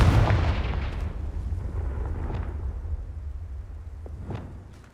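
A Confringo fire spell blasts in Hogwarts Legacy, a loud booming explosion with a long rumbling decay that gradually fades over several seconds, with faint crackles trailing behind.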